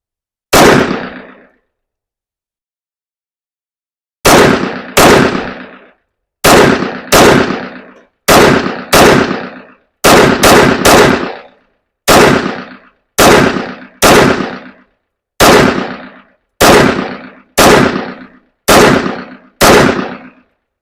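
An M&P 5.7 pistol fires at an outdoor range, sharp loud shots coming singly and in quick pairs and triplets, separated by short pauses, each crack ringing briefly.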